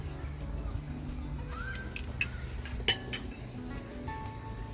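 Spices, turmeric, cumin and paprika, stirred with olive oil in a paella pan, light clinks of a utensil against the metal over a steady background sizzle, close up.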